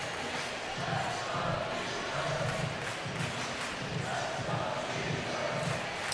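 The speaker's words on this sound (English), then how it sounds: "So this crowd's into it again in support of the Beavers" Baseball crowd at an Oregon State Beavers vs. Louisville game gives a continuous roar of cheering, with rhythmic rumbling thumps like stomping or clapping beneath it, distant and diffuse.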